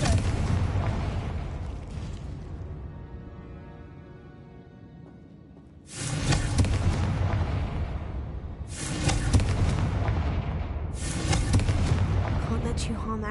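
A Confringo fire blast spell in Hogwarts Legacy on PS5, with repeated loud explosive bursts that each roll into a long rumbling decay and follow one another every few seconds.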